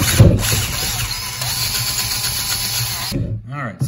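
A drill bit bores out the oil feed passage of a Buick V6 timing cover, a steady loud grinding drone running for about three seconds before stopping, with a short spoken word near the start.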